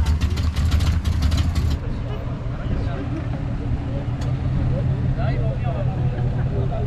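A loud American muscle car at a cruise night gives off a heavy, rumbling engine roar that is strongest at the start and then settles into a lower, continuous drone amid background crowd noise.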